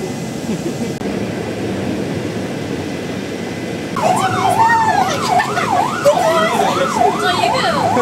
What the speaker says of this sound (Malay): Buka siren.